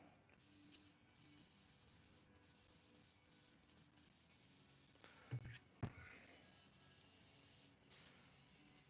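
Harder & Steenbeck airbrush spraying paint through a nozzle that is giving trouble, a close, steady hissing spray broken by short pauses and a few brief clicks and bumps, with no talking.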